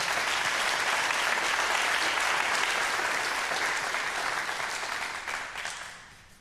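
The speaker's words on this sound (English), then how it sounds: "let's give her a round of applause as she comes up." An audience applauds steadily for a woman, a supervisor, coming up to speak at a church session on addiction; dense, sustained clapping fills the room, then tapers off near the end.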